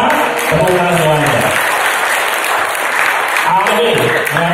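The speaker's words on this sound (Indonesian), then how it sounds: "Tepuk tangan semuanya." Audience applause at a motivational sharing talk, a steady wash of clapping from a crowd filling the room, with a voice speaking over it near the start and end.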